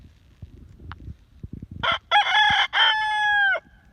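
Elmer, a backyard rooster, gives one loud, close cock-a-doodle-doo in a few rising syllables ending in a long held note, after some soft rustling and faint clucks.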